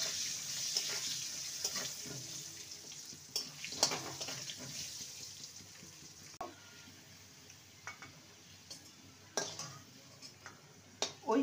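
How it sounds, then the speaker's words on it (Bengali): Potato pieces fry in oil with a little turmeric and salt, giving a faint, steady sizzle broken by scattered pops and clinks. Quiet and somewhat distant, with no talk. "আলুটাকে লাল করে ভেজে নেব।"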